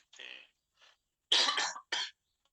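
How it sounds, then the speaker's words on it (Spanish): A single person in a Spanish-language zoology lecture coughs several times in short, separate bursts, close and fairly loud, with brief pauses of silence between the coughs. "me da tiempo de toser un poco"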